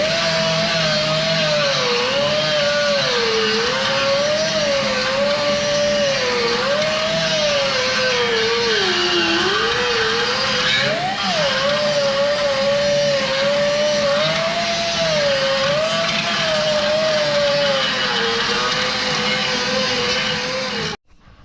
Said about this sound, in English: So I'm just gonna clean up these welds a bit